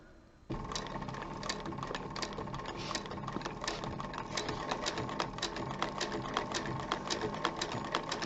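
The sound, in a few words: sewing machine slowly stitching a zipper onto a wallet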